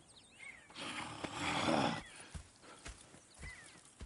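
A horse in Red Dead Redemption 2 whinnies loudly in a drawn-out neigh, then softer snorts and scattered hoof thuds follow over a quiet ambient backdrop.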